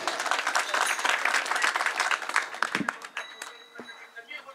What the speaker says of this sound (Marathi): एकदा मृदंगासाठी आणि प्रियंका ताईसाठी जोरदार टाळी वाजवा